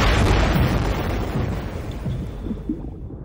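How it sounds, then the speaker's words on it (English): A seismic survey air gun blast underwater: a single deep, muffled boom opens and then rumbles away slowly, fading into a low underwater reverberation. "This is seismic surveying."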